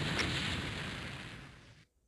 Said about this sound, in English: Nice explosions and...